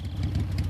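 A vehicle engine idles in the video game Metal Gear Solid 3, a low steady rumble with a slight pulsing texture, brief and fairly close.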